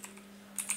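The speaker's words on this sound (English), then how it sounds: "I'm typing here" A few quick, faint keystrokes on a computer keyboard, soft clicks in a quiet room over a low steady hum.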